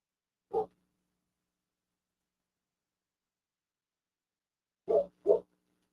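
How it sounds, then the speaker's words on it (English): A dog down the road gives one muffled bark, then after a long silence two quick barks in a row, all sounding distant. "I heard the dog down the road barking"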